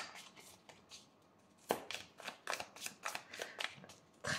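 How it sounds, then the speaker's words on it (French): Tarot cards are handled and drawn from a deck, with a run of crisp, close card snaps and flicks that grow busier and louder in the second half, with no talk over them. "Allez, une carte pour vous. Je vais aller la prendre"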